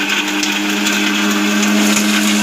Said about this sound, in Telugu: బాగా మిక్సీ పట్టించాలి.